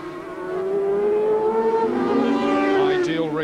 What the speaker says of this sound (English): The superior power of Hurst Kawasaki rocketing past the tail ender there.